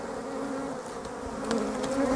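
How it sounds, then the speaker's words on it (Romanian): Robber honey bees buzz over a hive, a steady close drone of many wings that swells slightly toward the end, with no talk. "Ia uitați-vă astea care bâzi pe deasupra"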